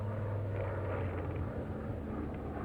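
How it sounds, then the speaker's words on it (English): A plane flies over a valley with a steady, low, droning rumble. It is moderately loud and unbroken, with no voices. "Ain't nothing but a plane."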